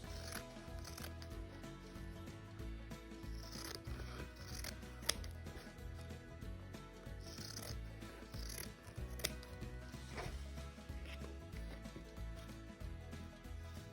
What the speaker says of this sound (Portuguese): nós vamos refilar em volta, tirar o excesso de manta da volta toda